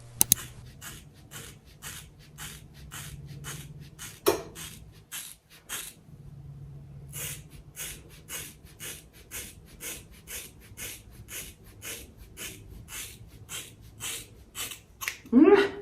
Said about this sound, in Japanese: もう切るときはね、もうガシガシいっちゃいましょう。 聞いて、この音。